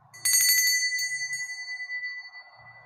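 A small bell rings once to mark a playing-card reading for a zodiac fortune, giving a bright metallic ding with a long shimmering tail that slowly fades; a quiet low hum sits underneath.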